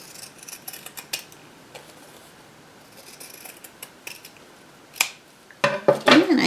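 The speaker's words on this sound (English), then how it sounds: "I'm just going to take the scissors, or if you have a rotary cutter and a mat, that's fine. Just cut those in half." Scissors cutting sewn quilt fabric squares in half, quiet sparse snips at first that build into several louder, crisp close-up cuts near the end.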